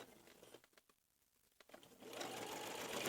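Sewing machine stitching a placket on baby overalls, a short run of rapid needle chatter that pauses briefly, then resumes as a louder, steady buzzing whir up close.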